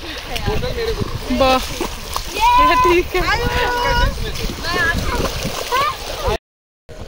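Water splashes and gurgles continuously at Dharmpur waterfall as people talk and exclaim over it, the rushing sound running beneath their voices until a brief cutoff near the end.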